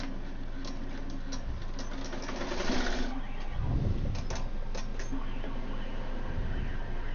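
An embroidery machine stitching a floppy beach hat at 1,000 stitches per minute hums in a steady, rapid mechanical rhythm with soft ticking, running continuously throughout.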